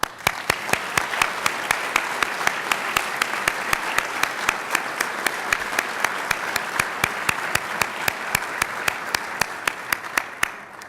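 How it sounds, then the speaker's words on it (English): Sustained audience applause fills a Foreign Service anniversary celebration for the American Foreign Service Association, steady and dense for about eleven seconds with sharp individual claps standing out at a regular pace. "please join me in a round of applause"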